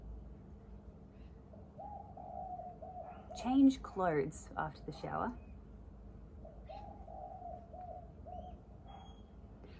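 Pet birds coo softly indoors in short low phrases, heard faintly before and after someone speaks briefly over them.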